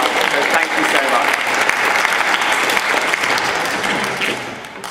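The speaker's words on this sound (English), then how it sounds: "Shall we give Natalie a huge round of applause?" Church audience in Otley Parish Church applauding volunteers during an evening talk, a loud, dense round of clapping with some crowd murmur mixed in, fading gradually toward the end.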